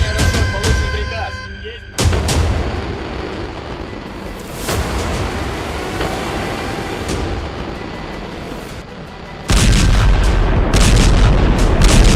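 Huge blasts and a sustained roaring rumble, with sudden loud bursts breaking through a continuous thunderous din, like an intercontinental ballistic missile detonation.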